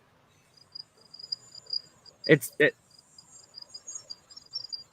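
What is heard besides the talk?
crickets chirping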